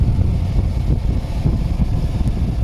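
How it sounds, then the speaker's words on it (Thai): Air conditioner fan in a Toyota Vios blowing at speed 4, a loud, steady low-pitched rush of air close to the vent, with no talking. "เปิดพัดลมมาที่สปีด4ค่ะ"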